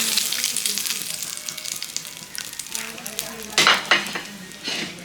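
Bay leaf, cinnamon and cardamom fry in hot oil previously used for frying rohu fish head, giving a bright crackling sizzle with a few utensil clatters and stirring knocks, close up and fairly loud, no voices.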